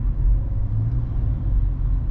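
A car driving along a road, a steady loud low rumble of engine and tyres heard from inside the moving vehicle, continuous and without talk.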